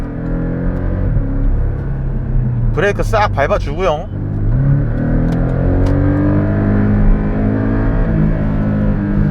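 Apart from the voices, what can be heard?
Porsche 718 Cayman GTS engine revving at 4-5k RPM, launch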